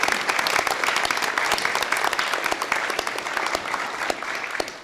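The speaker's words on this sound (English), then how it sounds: "So let's give those people a round of applause as well" A room full of people at a university board of regents meeting claps steadily, a dense even patter with sharp individual claps standing out, easing slightly toward the end.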